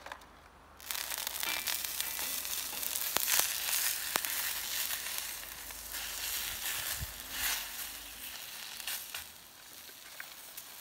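Lobsters grilling flesh-side down on a hot grill, giving a steady, close sizzle that starts abruptly and crackles with pops throughout.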